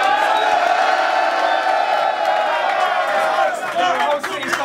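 Crowd at a Don't Flop rap battle event in Chicago cheering, whooping and clapping in a loud continuous roar, with a host shouting over it.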